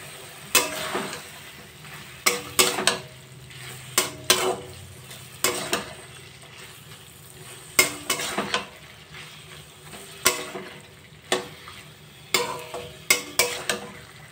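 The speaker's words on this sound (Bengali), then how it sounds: "আমি মোচা, আলু, ছোলা সব একসাথে কষাচ্ছি" Banana flower, potato and chickpeas stir-fried together in a pan, with a spatula scraping and clanking in regular strokes over a low steady sizzle in a home kitchen.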